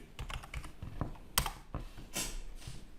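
Someone types a password on a computer keyboard, a quick run of close, clicky keystrokes with a couple of heavier key presses and a short pause, no voice.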